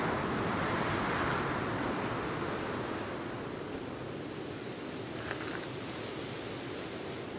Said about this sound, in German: Obwohl es hier übelst windig ist und laut ist und alles drum und dran ist.